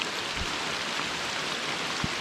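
Hurricane rain comes down hard and steady outdoors, a dense continuous hiss with a few louder drops striking nearby.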